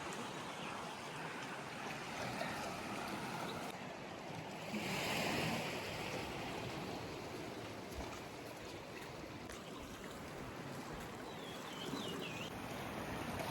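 Sea waves wash onto Arambol Beach in Goa, a continuous broad surf roar with a swell in the middle, heard alone with some wind on the microphone.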